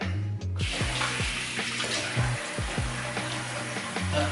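Water runs steadily from a tap into a sink while shaving cream is rinsed off, with splashes and gurgles shifting over a continuous close-up gush.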